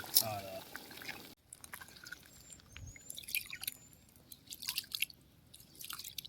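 Rice goes into a pot of boiling water for a Pongal celebration dish, making a brief rattling pour followed by soft drips, bubbling and trickles, faint and close, with people speaking nearby.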